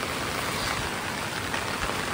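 Heavy monsoon rain falls in Konkan as a steady, dense, close hiss that continues without break, with no voices.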